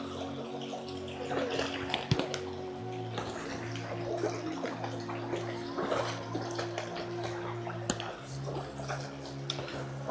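A forest stream crossed on the Kurinjal Peak trek rushes in a steady, even wash of flowing water, close by and continuous, with no voices.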